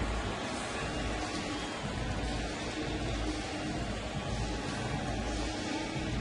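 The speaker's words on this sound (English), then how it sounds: "Starts to rain very lightly again here at the ballpark." Light rain falling at a baseball stadium during a game, a steady soft hiss of drops spread evenly across the whole stretch with no voices.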